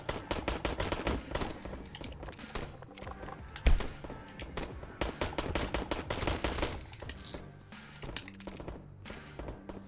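Rapid gunfire in a video game firefight, bursts of automatic shots crackling densely and steadily throughout, with one louder thump midway, set against a busy game soundscape.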